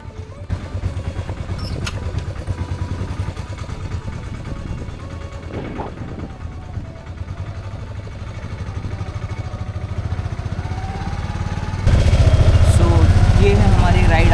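An auto rickshaw's small engine runs steadily throughout on a Jaisalmer city ride, a constant low putter under ongoing talk, growing louder near the end as it picks up.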